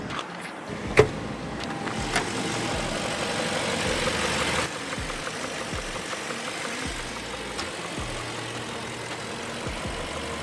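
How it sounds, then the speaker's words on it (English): BMW V8 engine idling with the hood open, a steady low rumble held close throughout, with a brief sharp knock near the start and a slight drop in level about halfway. "Now let's get under the hood and see how the engine is performing."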